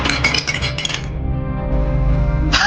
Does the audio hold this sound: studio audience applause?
no